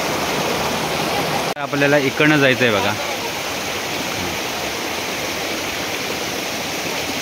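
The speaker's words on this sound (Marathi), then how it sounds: "खाली जाते धबधब्याचं पाणी." Waterfall water at Sonavade village rushes steadily downhill, a dense, continuous roar filling the whole stretch, with someone speaking briefly over it partway through.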